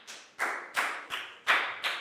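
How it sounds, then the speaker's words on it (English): A few hands clap in a sparse, uneven rhythm for a pupil in a Year 4 classroom, six distinct claps, close and fairly quiet, with no talking. "a big round of applause for Pat"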